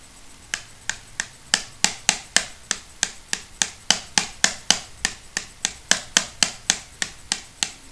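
Rapid, rhythmic scraping clicks, about three per second, close and crisp, from a plastic face wash bottle rubbed against a toothbrush, with no voices.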